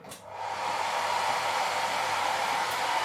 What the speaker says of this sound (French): j'étais en train de me plaindre que le sèche-cheveux il fonctionnait plus, mais en fait ça fonctionne